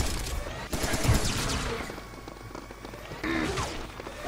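Gunfire in Serious Sam plays as a rapid, dense fusillade of close shots with crashes and whooshes mixed in, dying down and then flaring again near the end.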